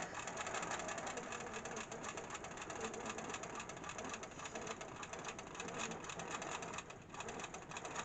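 A sewing machine runs steadily while quilting over earlier stitch lines, a fast continuous mechanical whir and rattle at even pace, close and moderately loud with no voices.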